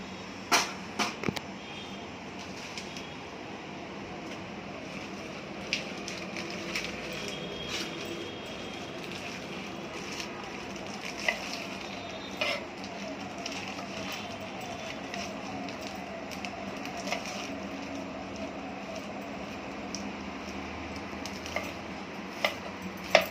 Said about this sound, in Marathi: आता ही भाजी बारीक कापून घ्यायची